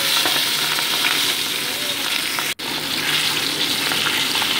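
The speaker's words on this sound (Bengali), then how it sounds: "মাছগুলোকে উল্টো পাল্টে আমি ভেজে নিচ্ছি।" Pabda fish frying in hot mustard oil make a loud, continuous crackling sizzle, broken only by one very brief dropout partway through.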